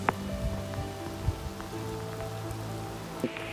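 Steady rain falls outdoors on a hike, a dense continuous patter with a few louder drops landing close by, no voices.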